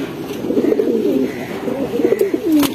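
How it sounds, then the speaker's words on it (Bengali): A black-necked line female pigeon coos close to the microphone, a steady run of low, rolling coos that continue throughout, loud and clear with no talk. "কালো গলা লাইনের একটি মাদি কবুতর।"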